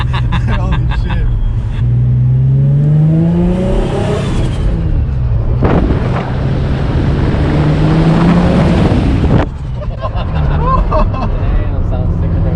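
A single-turbo Nissan 350Z with an HR engine accelerates while driving, its engine note rising through gears with a loud whooshing surge and shifts, close inside the car, with excited voices talking over it.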